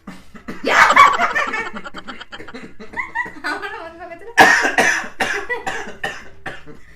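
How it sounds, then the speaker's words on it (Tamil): A burst of harsh coughing up close, followed by a second coughing fit after a short pause, with some breathy laughter mixed in. "இது இருமல்"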